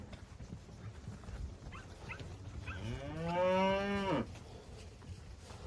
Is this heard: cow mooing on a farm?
yes